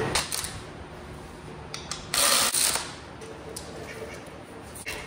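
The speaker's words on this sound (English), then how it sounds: "then we can start tightening everything down" A hand ratchet clicks in short bursts while tightening timing cover bolts on a 2006 Chevy Silverado 5.3L engine, close and crisp with quiet pauses between strokes.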